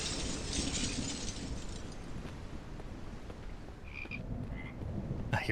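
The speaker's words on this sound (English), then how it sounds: "I hear frogs." Frogs croak in a rainy outdoor scene of the Pocket Witch video game, a dense, continuous chorus under steady rain hiss, with a few sharper chirps toward the end.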